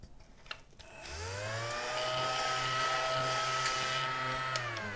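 A mini desk vacuum whirs up to speed and runs with a steady, high-pitched motor whine while sucking up eraser shavings, then begins spinning down at the end.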